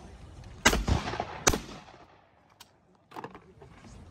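Shotgun shots fired at clay targets during a FITASC sporting clay shoot final: two loud sharp blasts close together with a trailing echo, then a fainter distant report and some low background bustle.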